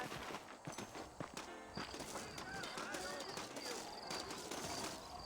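Horse hooves clopping in the Red Dead Redemption video game, with several saddled horses in New Austin, an irregular clatter of hoofbeats mixed with game sounds, sharp gunshot-like cracks and a voice.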